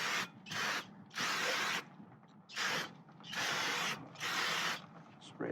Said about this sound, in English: Spray that up.